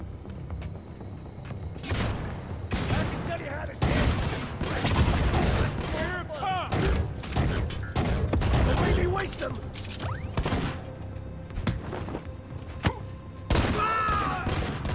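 A gun firing in the shooter Necromunda: Hired Gun: sharp single shots and short bursts crack at irregular intervals over mechanical clacks and a low game ambience.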